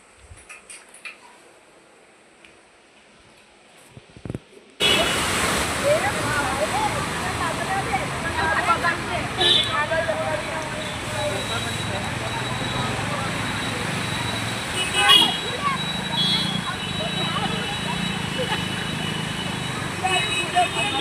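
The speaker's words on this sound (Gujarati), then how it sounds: "સવારનો વરસાદ કેવો પડી ગયો છે મિત્રો" Heavy morning rain falling in Bhudarpura, Ahmedabad, a steady broadband hiss and patter that starts abruptly after a few seconds of near quiet, then continues loud and even with scattered louder drips and splashes.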